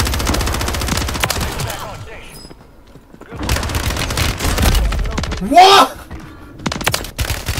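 An HRM gun fires in a resurgence-mode shooter video game, with rapid bursts of automatic gunfire and booming impacts. The bursts are interrupted by a brief lull, and an excited voice speaks over the loud, close fire.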